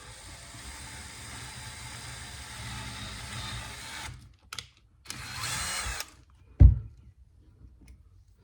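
A small power drill bores holes in a plastic part for a Spengler Neutrona Wand prop, a whirring run of several seconds followed by short bursts, pauses and a sharp clunk, close and moderately loud.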